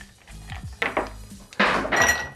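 Ice cubes dropped into a mixing glass while building a Manhattan cocktail, giving a few loud clinks and thunks in quick bursts, close up, with no talking.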